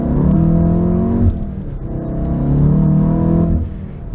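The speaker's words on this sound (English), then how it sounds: "So we'll go ahead and get up to a little bit of speed here." An APR Stage 2 tuned Volkswagen Golf R with all-wheel drive and a turbo accelerates, its engine note rising steadily in pitch, dropping briefly at a gear change, then climbing again, loud and close from inside the car.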